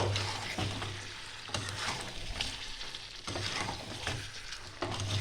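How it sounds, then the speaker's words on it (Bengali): Chicken curry with nuts being stirred in a frying pan, a steady sizzle with repeated scraping strokes of the spoon across the pan surface, close and moderately loud, no talking. "দিয়ে ভালো করে এটা নাড়িয়ে চাড়িয়ে নেব।"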